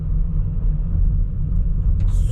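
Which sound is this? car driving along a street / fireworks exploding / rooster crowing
car driving along a street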